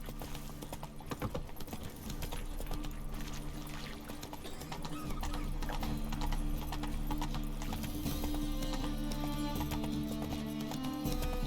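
Horse hooves clip-clop in a fast galloping rhythm in the video game Witcher 3 Wild Hunt, steady and moderately quiet against the game's ambient sound, with no talking.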